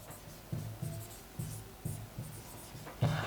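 Handwriting on paper, heard as a series of soft, close scratchy strokes in an uneven rhythm. No voices are heard.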